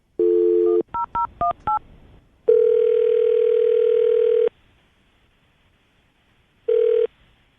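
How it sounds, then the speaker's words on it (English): A telephone call is placed: a steady dial tone, then a quick run of several keypad dialing tones, followed by a long ringback tone, a pause, and a second ring, all clear and close. "we're going to call him right now, get him on the phone"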